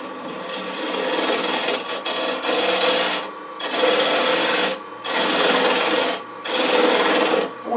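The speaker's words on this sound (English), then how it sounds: "I'm going to use a 3/8 inch bowl gouge to kind of flatten that off a little bit." A 3/8 inch bowl gouge cutting a wooden bowl on a spinning lathe, loud rasping passes in four long bursts separated by short pauses.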